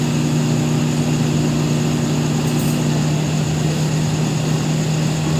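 A repaired microwave oven runs with a steady, even hum and drone, continuous and fairly loud at close range, with no voices over it.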